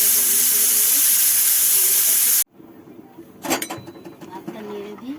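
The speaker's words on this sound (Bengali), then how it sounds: "প্রেসারে 2টো সিটি দেবেন মোটে, 2টো সিটি দিলেই হয়ে যাবে" Pressure cooker whistle venting steam while meat cooks, a loud sustained hiss that cuts off abruptly, followed by quieter kitchen clatter and a person talking.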